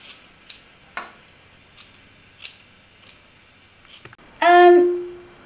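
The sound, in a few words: scissors cutting Barbie doll's hair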